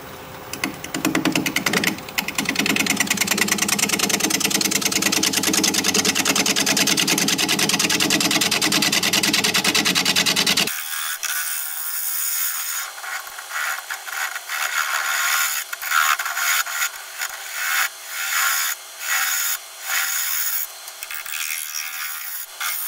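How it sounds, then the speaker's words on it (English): A wood lathe at 580 RPM hums while a 1/2-inch bowl gouge cuts into spinning manzanita, producing a loud, steady rasping scrape that becomes more rhythmic and choppy later. "We're going to be turning at 580 RPM, 1/2 inch bowl gouge"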